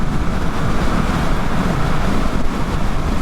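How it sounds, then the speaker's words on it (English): Steady, roaring wind buffets the microphone throughout, a dense broadband rumble with no pauses and no voices. "It's windy, isn't it?"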